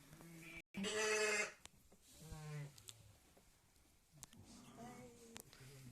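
Sheep and a newborn lamb bleating in a pen during lambing, with several loud, wavering calls close by and quieter rustling between them.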